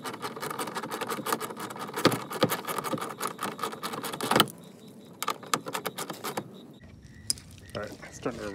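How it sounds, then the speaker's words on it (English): Light rain patters steadily on a 2006-2010 BMW M6 (E63/E64) parked outdoors during rear bumper cover removal, with scattered close taps and clicks that thin out into sparser drops partway through. "it's starting to rain a little"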